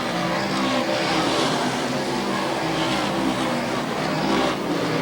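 Stock cars roar steadily around an oval short track, a dense continuous engine drone with cars passing close, heavy and loud throughout with no pauses.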